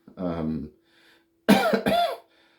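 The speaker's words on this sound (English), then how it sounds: "Excuse my cough here." A couple of short, harsh coughs burst out close to the mic after a brief voiced sound, then silence.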